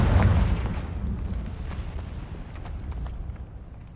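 Confringo fire spell explosion in the Hogwarts Legacy video game: a loud, deep blast at the start that rumbles and slowly fades into a lingering low roar.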